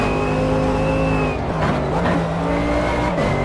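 A McLaren GT3 race car in a racing video game holds a loud, steady engine drone that dips and climbs as it shifts and re-accelerates, with tires squealing underneath and no talk.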